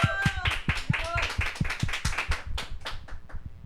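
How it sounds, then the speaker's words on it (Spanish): A studio audience claps to welcome a Spanish-language talk program, with a few loud, distinct near claps over softer scattered clapping and brief tonal music notes early on. "el cual vamos a recibir con un fuerte aplauso"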